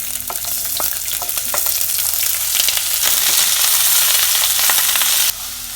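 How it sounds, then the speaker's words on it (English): Onions sauté in a hot pan for Kosha Mangsho, a loud close sizzle and crackle with scattered sharp pops and occasional stirring scrapes that dips slightly near the end. "So we'll saute these onions for about 3-4 minutes till they turn brown."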